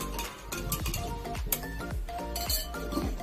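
Glassware clinks and taps in quick, irregular succession as a solution is stirred with added water during a school science practical, close and fairly clear.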